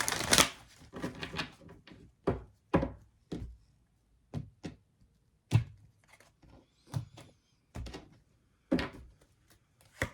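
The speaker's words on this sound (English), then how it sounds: "Let's just shuffle one more time." Tarot cards being shuffled in a series of crisp riffles and slaps, close by, with short pauses between bursts and no talking.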